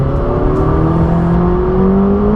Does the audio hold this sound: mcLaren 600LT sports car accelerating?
yes